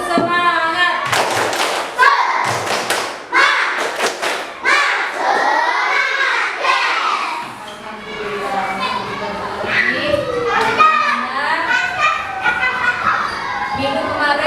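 Schoolchildren doing a rhythmic spirit clap in a classroom, bursts of sharp group claps in a patterned beat alongside loud shouting voices chanting together, close and lively throughout.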